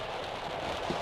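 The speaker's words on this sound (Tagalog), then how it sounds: "umihina na ang ulan." Steady rain easing off, heard as a dense, even hiss of falling drops that fills the whole moment with no voices.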